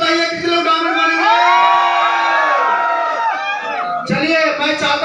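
An audience in a hall cheers, whoops and shouts loudly and steadily for several seconds, with a fresh burst of voices near the end.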